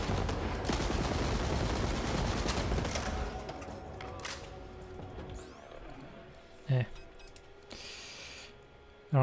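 Heavy-recoil gun firing in the video game Borderlands 3: a dense, loud burst of rapid shots for a few seconds that fades into game effects and whooshes, with a couple of sharp hits near the end.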